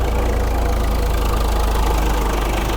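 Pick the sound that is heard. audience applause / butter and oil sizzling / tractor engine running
tractor engine running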